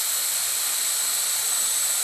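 A small Blade mQX quadcopter hovers indoors in a kitchen, its tiny rotors giving a thin, high, steady buzzing whine that stays constant through the brief moment.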